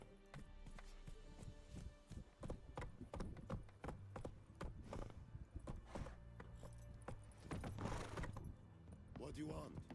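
Roach, a horse in the video game The Witcher 3, runs with a rhythmic patter of hoofbeats, fairly faint, under game effects and a voice talking.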